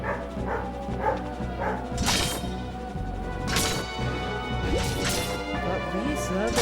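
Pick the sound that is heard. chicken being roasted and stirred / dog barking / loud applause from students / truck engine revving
dog barking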